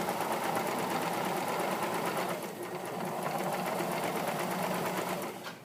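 Home sewing machine stitching a waist seam on pajama fabric, a steady fast mechanical whirr with even needle pulses, running close and loud, easing briefly midway, then stopping at the end.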